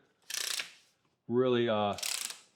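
A Milwaukee M18 FUEL 6-gallon cordless wet/dry shop vacuum has its wand swapped, giving two short ratcheting clicks around a brief steady tonal hum, close and distinct, with no talking.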